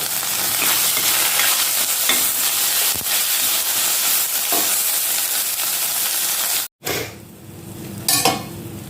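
Egg pepper fry mixture is stirred in a hot pan, giving a continuous sizzling hiss with scraping strokes throughout, a brief gap, then quieter frying with a few clatters.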